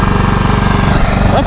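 A neglected riding mower's engine runs loud and close with a rough, uneven idle, its rapid chugging pulses thumping throughout the short burst.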